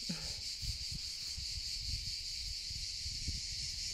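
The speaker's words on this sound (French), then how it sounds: "Je vous ai laissé quelques instants pour écouter les cigales." A steady, high-pitched droning buzz of cicadas fills the background, constant and unbroken, with soft low thumps and rustles underneath.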